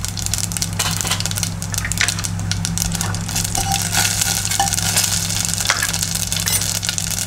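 Mustard seeds and cumin crackle and sizzle steadily in hot oil as a tempering for mango kadhi, a dense continuous frying hiss with scattered pops, close and loud throughout with no talking.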